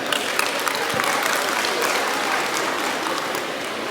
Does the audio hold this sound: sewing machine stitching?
no